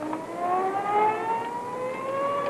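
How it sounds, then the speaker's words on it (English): A loud siren on top of the San Francisco Ferry Building wails steadily, its pitch slowly rising and holding, sounding alone with no voices. "The siren on top of the ferry building. Blows 3 times a day, just like now."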